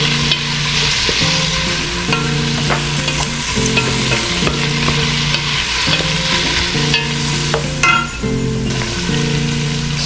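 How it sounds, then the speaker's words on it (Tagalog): Onion and garlic sauté in a hot pan with loud, steady sizzling and frying, broken by repeated scraping stirs, over a faint tonal background. "Nagsote ako dito ng onion at saka garlic."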